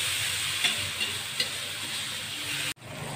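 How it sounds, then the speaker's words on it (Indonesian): Spice paste for tempe orek, warteg style, frying in hot oil in a pan; a steady close sizzle with a few stirring scrapes, then a brief drop out before the sizzle resumes, with no voices. "Kita masukkan bumbu yang tadi, kita goreng terlebih dahulu"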